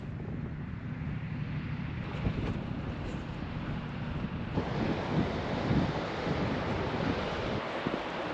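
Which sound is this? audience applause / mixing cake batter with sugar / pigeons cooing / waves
waves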